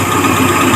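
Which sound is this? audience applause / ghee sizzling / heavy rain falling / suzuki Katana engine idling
suzuki Katana engine idling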